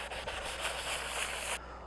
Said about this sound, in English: I'm going to go back in with the sanding block and get it all roughed up.